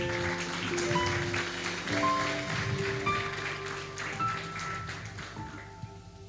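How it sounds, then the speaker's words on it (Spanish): A church congregation applauds the actors after a performance during a sermon, clapping in a soft, dense patter while sustained tones from instruments ring underneath and fade out near the end. "Los despedimos con un fuerte aplauso."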